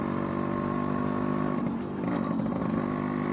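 A Yamaha RX100 two-stroke motorcycle with a stock exhaust runs nearby, its engine giving a loud, steady, buzzing drone that rises briefly as the throttle is worked, with no voices.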